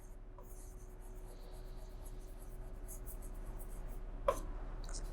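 A pen writes on paper during an accounting lesson, a faint continuous scratching under steady background hum, with one brief louder tap near the end.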